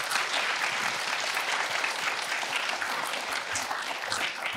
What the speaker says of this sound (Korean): 우선 먼저 큰 박수로 인사 부탁드리겠습니다.